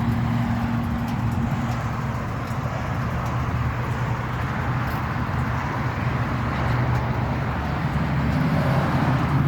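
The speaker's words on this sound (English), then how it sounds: "the traffic was pretty heavy" Heavy rush-hour traffic near the Memorial Bridge, heard from a moving motorcycle as a steady, loud roar of road and engine noise that stays constant throughout.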